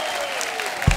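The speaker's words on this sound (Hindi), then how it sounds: "इन चारों नौजवान सिंगर्स के लिए जोरदार तालियां हो जाए।" Applause from a studio audience welcoming four young singers on a music talk show, a short, dense burst of clapping over a faint sustained musical tone, swelling at the end.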